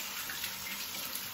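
Shower water runs steadily and close by while a border collie is washed, a constant broadband hiss with no talk over it.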